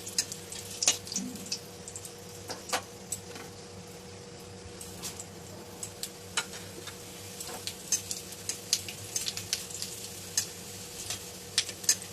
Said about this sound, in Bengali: তেলের মধ্যে দিয়ে দেবো শুকনো লঙ্কা, গোটা জিরে, তেজপাতা